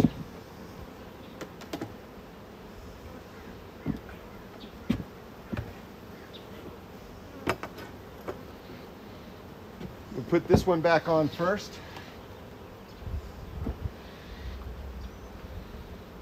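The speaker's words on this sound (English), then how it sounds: "there's too many bees on there right now" Honey bees buzz around an open beehive during an inspection, a low hum under scattered clicks and knocks of handling the frames, with a louder swell of buzzing near the middle while a person talks.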